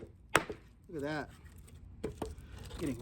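Ontario SP53 bolo knife chopping wood, a sharp loud chop followed by a few more strikes spaced irregularly, with someone talking between and over them.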